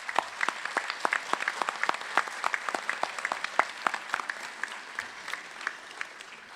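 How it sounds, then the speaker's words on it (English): Applause from a graduation crowd at a law school commencement, steady dense clapping throughout, fairly distant and sustained without voices. "Graduates, please join me in applauding your family and friends for that support."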